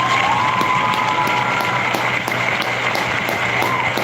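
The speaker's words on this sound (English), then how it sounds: "I think he deserves an applause." Applause and some cheering from an audience at a political event for a party leader, steady and fairly loud throughout with a continuous crowd wash.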